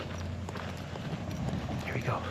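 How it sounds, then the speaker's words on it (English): Heavy footsteps thud on the ground outdoors in a steady walking rhythm, close and fairly loud, with background noise underneath. "You can hear my clod hopping footsteps on the ground."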